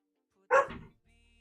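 A single sharp dog bark, close and fairly loud, followed by a low mechanical hum in an otherwise quiet room.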